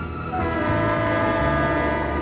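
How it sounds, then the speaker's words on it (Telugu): A train pulls in with a loud, sustained horn-like blare over a heavy, steady rumble of rolling cars, filling the whole stretch without a break. "అరే, ట్రైన్ వచ్చేసింది."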